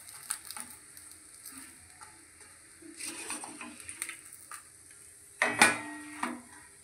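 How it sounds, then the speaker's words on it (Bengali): Aloo paratha frying in oil on a tawa gives a low, quiet sizzle under clinks and scrapes of utensils against the pan, with a louder clatter near the end and no talking. "আমি বাদ বাকি পরোটাটা ভেজে দিই। আমার পরোটা আর একটা তাওয়াতে দিয়ে দিলাম।"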